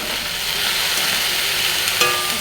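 Potatoes with salt and turmeric being stirred in a pan for a vegetarian potato curry, a steady close sizzle with scraping stir noises throughout and one sharper clink near the end.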